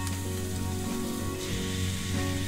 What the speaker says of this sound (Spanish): Una vez que la tienen blanquita y blanda la cebolla, le agregamos el solomillo